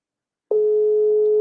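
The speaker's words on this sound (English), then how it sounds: "We apologize for the ringing sound" A phone line gives out a loud, steady electronic tone that starts abruptly and holds a single unbroken pitch, alone with no talking.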